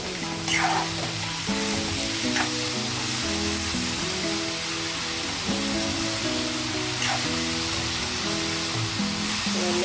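Cauliflower curry seasoned with salt and turmeric sizzles steadily in a hot pan, a continuous close hiss with occasional soft stirring strokes, and a background hum throughout; no one speaks.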